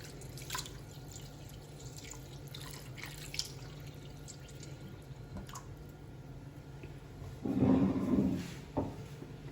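Salted codfish pieces rinsed under a running kitchen tap, with a low steady water hiss, scattered drips and a brief louder gush near the end.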